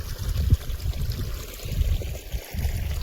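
Low, steady rush of water flowing and trickling into a paddy field nearby, with occasional gurgles and no talking.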